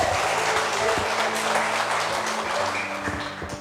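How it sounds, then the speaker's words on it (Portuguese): A church congregation gives a round of applause during a sermon, a dense, steady wash of many hands clapping at once, fairly loud and continuous, fading slightly near the end. "dá uma salva de palmas para o Senhor"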